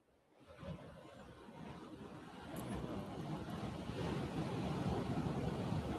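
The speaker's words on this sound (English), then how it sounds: "Those waves sound so good" Ocean waves wash and roar as a steady broadband surge, swelling louder over six seconds with some wind buffeting the microphone and no voices.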